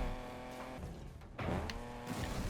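A car engine revving and whining steadily as it drives over stony dirt in NFS Unbound, with a brief dip before the engine note surges back, rough and continuous throughout.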